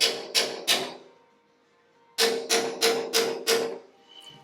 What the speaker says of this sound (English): take your punch and your hammer and you're going to knock out the pinholes. So just gentle taps to get it started